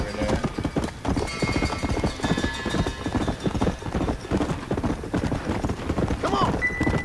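Horse hooves gallop in Red Dead Redemption, a steady fast clip-clop going the whole time, loud and close, with faint game sounds behind it.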